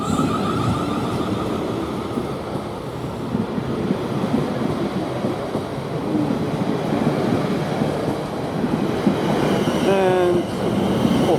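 A South Western Railway ten-car train pulling away from Brockenhurst station toward London Waterloo, a steady rolling rumble of wheels on rail with a brief squeal of wheels near the end.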